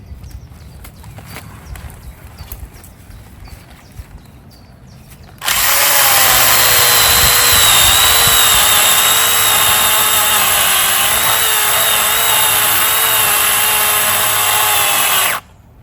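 A small chainsaw cuts a maple bonsai branch, starting after a quiet stretch of faint handling noises and then whining loud and steady for about ten seconds before cutting off.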